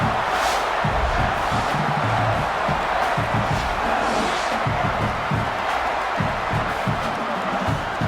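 In EA Sports College Football, a stadium crowd roars steadily as a dense, distant wash of cheering, with a commentator talking underneath.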